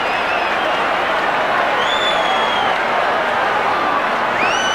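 Australian football crowd at an Adelaide versus Sydney Swans match in 1991 roaring and cheering continuously, a dense, loud wash of voices with scattered whistles and whoops, while a commentator talks over it.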